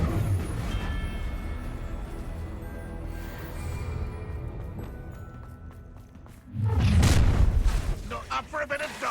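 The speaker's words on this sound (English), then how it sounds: "Bombarda." A Bombarda blast from the video game Hogwarts Legacy lands as a sudden heavy boom late on, with a roaring tail. Quieter game action and a voice come before it.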